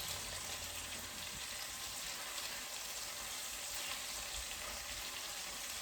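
Bacon pieces fry steadily in a pan for a quick coq au vin, a dense, continuous sizzle and crackle with no pauses and no voices.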